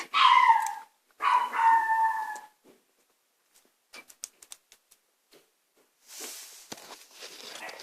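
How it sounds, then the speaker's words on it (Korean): A dog gives two drawn-out, whining howl-like calls close by. Each lasts about a second. Faint ticks and a soft rustle follow. "강아지 소리다."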